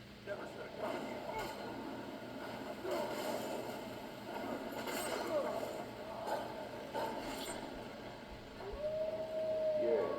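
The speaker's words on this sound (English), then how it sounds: "Wolf starts howling as Mufiki goes down." A wolf howls in Skyrim, a long rising and falling wail over a busy, steady game soundscape, with other voices and noise mixed in near the end.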